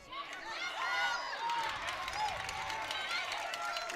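A crowd at a girls' lacrosse playoff final, Cherokee vs. Montgomery, cheers and shouts over a goal, with a busy spread of excited voices and some clapping at moderate distance.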